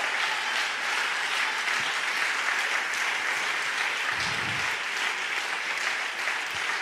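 A church congregation claps steadily for the Lord during a Spanish-language sermon, a continuous even wash of applause at moderate level with a few louder thumps near the end.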